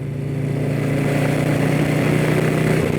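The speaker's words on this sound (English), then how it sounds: "I hit the accelerate button and there's so much torque, it just launches" Electric motorcycle launching under strong torque with cruise control engaged, a steady whining motor tone with drive hum that holds constant for about three seconds at close range, no talking.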